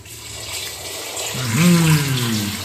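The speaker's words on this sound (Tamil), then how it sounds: "அதனால் ஒரு சொம்பு தண்ணி ஊற்றோம்" Water poured from a vessel into a pot of chicken biryani, a broad splashing pour that swells and grows louder toward the end, with a rising gurgling tone as the pot fills.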